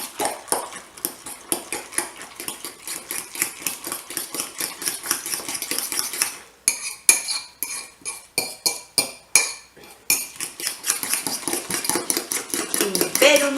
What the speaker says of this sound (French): Ensuite, on casse son petit neuf dans la mixture, on mélange.